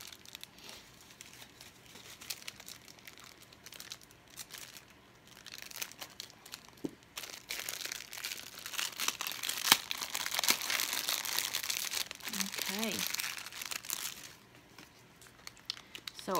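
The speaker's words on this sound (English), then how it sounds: "I'm going to sit them all out here so I don't have to rattle all this paper in y'all's ear." Paper packaging from a Valentine's Day haul of bath and body samples rattles and crinkles nearby, soft at first, then a louder stretch of steady crumpling and rustling that fades again; a brief faint voice sound appears near the end.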